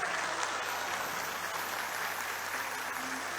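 Steady applause from an audience, a dense wash of clapping hands that holds at an even level throughout.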